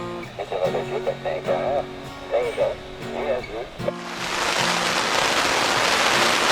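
Voices over a steady background give way to a loud, dense wash of heavy rain and gusting wind that fills the last few seconds, in the Avalon Wilderness Reserve, Newfoundland.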